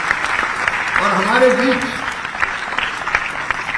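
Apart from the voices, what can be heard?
applause from audience at award ceremony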